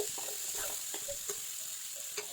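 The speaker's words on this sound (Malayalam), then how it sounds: "ഇത് നന്നായിട്ടൊന്ന് മിക്സ് ചെയ്ത് കൊടുക്കുന്നുണ്ട്" Beans stirred with onion, garlic and spices in a hot pan, a faint continuous sizzle with light, scattered scraping taps from the stirring.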